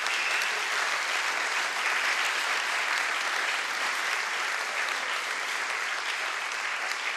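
An audience applauds at a charity concert in the Dom kulture Velenje hall, a dense, steady and fairly loud wash of clapping that lasts throughout without letting up.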